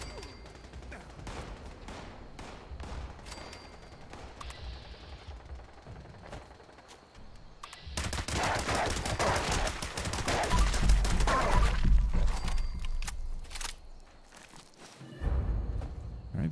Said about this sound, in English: Uh-oh, cultists are shooting at me.